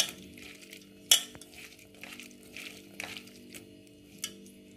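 Tomato and onion masala with chicken powder and salt being pressed and mixed by hand in a bowl, heard as soft irregular squelches with a few faint clinks from the bowl.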